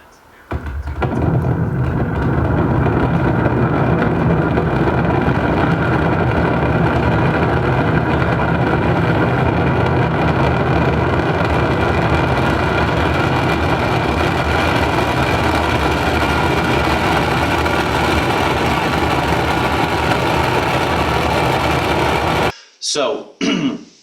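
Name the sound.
Raptor rocket engines igniting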